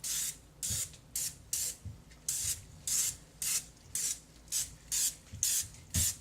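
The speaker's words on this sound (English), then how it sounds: "So you're just gonna take it and spray down the sides." A series of about a dozen short, hissing bursts of cooking spray from an aerosol can onto slow cooker sides, fairly close, repeating at a steady rhythm with brief pauses between.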